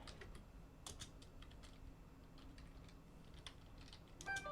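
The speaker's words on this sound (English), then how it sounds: "Type from your side." Quiet clicking of computer keyboard keys in irregular bursts, typed at moderate pace over a faint background hiss, with no speech.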